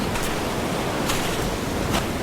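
Stormy ocean surf crashes in a continuous loud roar as a radio drama effect, with a few surging swells rising out of the dense wash of noise.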